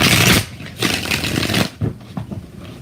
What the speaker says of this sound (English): 6 shuffles for Nick